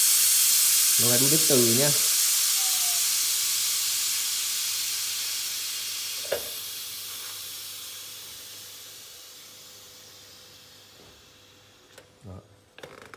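A Japanese pressure cooker on an induction stove releases steam in a loud, steady hiss that slowly fades over several seconds, with brief speech near the start and a few small clicks toward the end.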